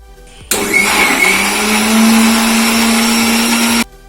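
A blender grinds jackfruit with jaggery syrup for jackfruit halwa, a loud steady motor whine that starts abruptly, holds for about three seconds with rising pitch, and cuts off sharply.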